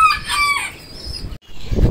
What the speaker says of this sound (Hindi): पेंटम मुर्गा मुर्गी भी बाहर आ गई हैं